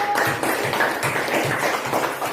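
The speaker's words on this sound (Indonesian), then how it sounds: "Tepuk tangan untuk Firdaus" Students in an Indonesian classroom clap for a classmate, a dense, steady patter of many hands held at an even level for a couple of seconds.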